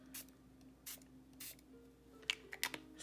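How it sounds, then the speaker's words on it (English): Several quick hissing bursts from a spray bottle misting water onto a paint palette, evenly spaced and close, followed by faint clicks and taps in a quiet room. "I'm just spraying down my palette because it gets kind of dry in here"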